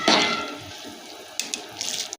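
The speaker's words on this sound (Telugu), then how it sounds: "ఇప్పుడు నీళ్ళు మసులుతున్నాయి కదా, అందులో రైస్ వేసేసిన" Soaked rice for spicy chicken biryani is tipped into a pot of boiling water, giving a brief watery pour and splash at the start, then softer bubbling with a few light splashes and clinks.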